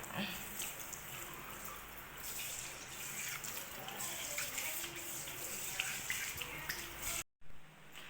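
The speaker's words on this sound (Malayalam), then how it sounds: "വെള്ളം ഒഴിച്ച് കാണിക്കാൻ അങ്ങനെയാണ്." Water splashes and runs steadily, like a tap or poured water during washing, with a broad hiss throughout and a brief dropout near the end.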